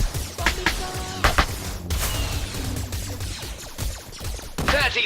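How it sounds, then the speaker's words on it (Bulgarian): Gunfire and explosions fill a Galaxy Wars video game battle, with rapid shots, a thrown bomb blasting mid-fight, and continuous loud combat noise throughout. "Метам бомбичка."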